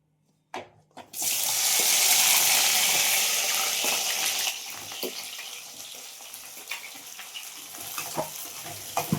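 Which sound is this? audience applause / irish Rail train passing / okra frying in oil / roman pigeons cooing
okra frying in oil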